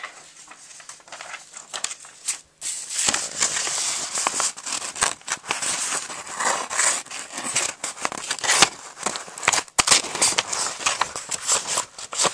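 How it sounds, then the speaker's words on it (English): A Leatherman Original multitool blade slices through paper, giving a sustained rough, crinkly rasp with scratchy bursts and a brief pause, heard up close and fairly loud without talking. "But let's cut this paper."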